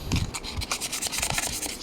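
Rapid scraping strokes of fine sandpaper rubbing rust off a metal part of an electric fan, close and steady, repeating in a quick back-and-forth rhythm with no talking.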